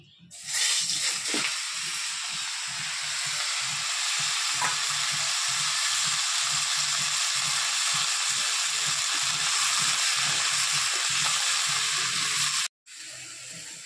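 Bottle gourd pieces hit a hot pan and fry with a steady, loud sizzle and hiss for over twelve seconds, with faint stirring scrapes beneath, then a brief cutoff near the end.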